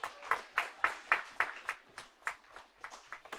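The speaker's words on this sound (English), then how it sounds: "Please, everybody, give him a round of applause" Faint, evenly spaced claps ring out in a men's class, about a dozen sharp hand claps in a steady rhythm, thin and slightly distant, like a small group applauding, with no talk over them.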